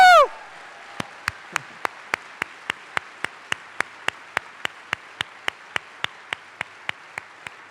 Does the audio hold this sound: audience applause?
yes